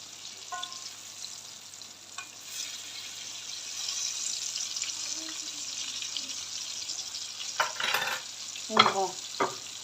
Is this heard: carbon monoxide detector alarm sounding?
no